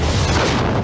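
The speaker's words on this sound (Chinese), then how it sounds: "俄罗斯卡52战斗直升机从空中连环发射炮弹" A Russian Ka-52 attack helicopter fires rockets, a loud, dense burst of booming blast noise filling the whole brief moment.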